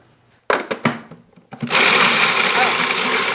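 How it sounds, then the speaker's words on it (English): A food processor grinds cookies into crumbs, starting with a few short pulses and then running as a loud, steady whir. "You do need a food processor for this if you want to grind these cookies"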